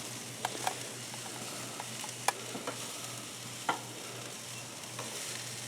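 Asparagus sizzling on a charcoal grill, a quiet, steady crackle with a low hum underneath and scattered sharp pops and ticks, no voices.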